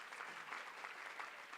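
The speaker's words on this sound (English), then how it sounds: "Give yourselves another round of applause for being here today." Steady applause from a conference audience at a food security gathering, a dense even wash of many hands clapping throughout, fairly faint as if heard from a distance.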